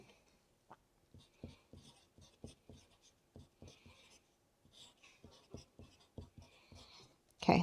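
A pen writes out a rational function by hand in a quiet math lesson, producing close, distinct scratchy strokes in an irregular rhythm of short bursts, with a brief louder noise at the very end.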